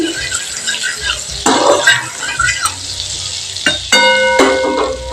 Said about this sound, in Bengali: গ্যাসটাকে লো ফ্লেমে রেখেই রান্নাটা হবে বাটারটাকে আমি একটু ভালো করে নেড়ে নিচ্ছি